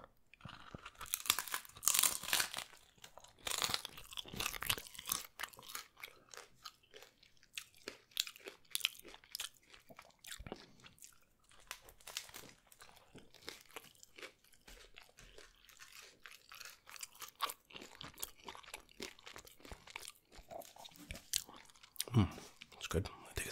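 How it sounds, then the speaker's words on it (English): Taco Bell taco supreme being eaten up close: sharp crunchy bites of hard shell followed by wet chewing, repeated over and over in an irregular rhythm, with soft-spoken talk in places. "now it's time to just crunch away"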